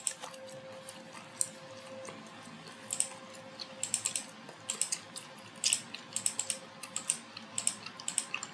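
Keys clatter on a computer keyboard while drafting a wall section in design software, with scattered single taps early on and then quick bursts of clicks, close and fairly quiet over a faint steady hum.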